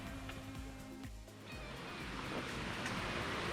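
Steady rushing water from Thottikallu waterfall in a forested area near Bangalore, a broad continuous wash that grows slightly louder, with faint wind and a few distant knocks.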